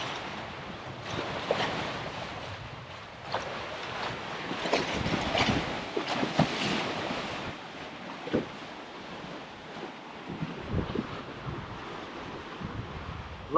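Vision 444 catamaran slicing through open water under sail, with a steady wash of water and wind buffeting the microphone, occasional splashes and surges rising over the continuous rush.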